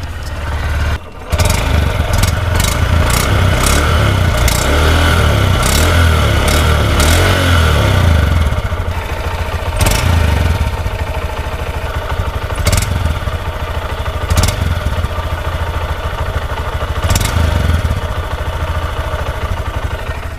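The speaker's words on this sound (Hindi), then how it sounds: "ये थी इसकी एग्जॉस्ट साउंड।" A 2025 Honda SP 125 with a four-stroke air-cooled engine starts up and idles close by, its exhaust giving a steady loud putter with a few sharp blips of the throttle along the way.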